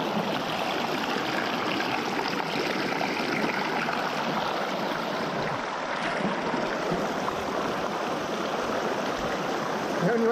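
A shallow river rushing over stones below Mont Ventoux in Provence, a loud, steady broadband wash of flowing water throughout.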